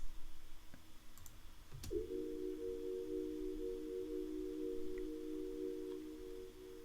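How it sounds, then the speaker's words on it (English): An Electra X synth sound placed at the end of a loop in an Ableton beat: a few faint clicks, then a sustained, steady buzzing tone that holds for several seconds at moderate level. "I put this little Electra X sound at the end to kind of send it off into the next"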